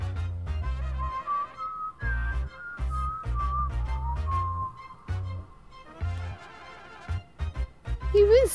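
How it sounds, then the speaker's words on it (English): A character whistles a wavering tune in the video game Heartbound, a long sustained melodic line over soft rhythmic game music, ending with a few quick rising notes. "He whistled."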